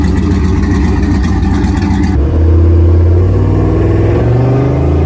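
A loud engine of a 1000-horsepower truck roars and revs steadily, its deep growl rising in pitch partway through, with no voices.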